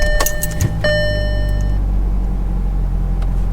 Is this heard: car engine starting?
yes